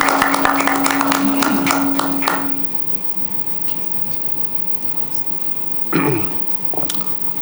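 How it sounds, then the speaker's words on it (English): Audience applause welcoming Congressman Jim Costa at a multi-faith gathering in Washington DC, a dense burst of clapping that fades over about two seconds into a quiet room, followed later by a brief rustle. "Honorable Congressman Jim Costa. Round of applause, ladies and gentlemen."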